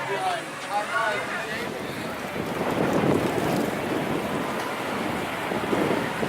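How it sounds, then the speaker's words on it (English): Strong wind buffets the microphone in a steady broadband roar at the Kings Island amusement park, swelling louder midway and holding close and constant throughout. "It's very windy right now."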